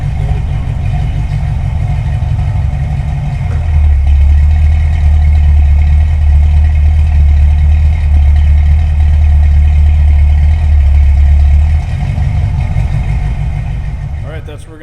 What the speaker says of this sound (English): See what it sounds like when it's loaded down with the fans.